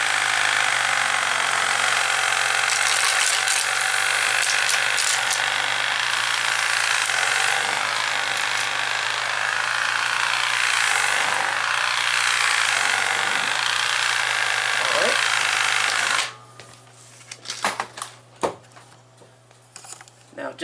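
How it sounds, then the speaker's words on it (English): An iGarden rotatable electric sweeping machine runs with a loud, steady motor whir and brushing hum for most of the stretch, then cuts off, leaving quieter scattered knocks and rustles near the end. "this should be a pretty good little device to help clean up. And it's not terribly loud."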